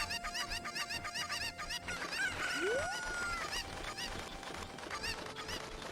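Fowl calls from chickens in a Zelda speedrun game, with honking, goose-like squawks and a rising whistle sweep over steady game music, fairly close and moderately loud, with no talk.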